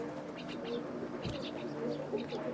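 Soft, low pigeon cooing rolls on steadily nearby, with a few faint chirps and rustles over it.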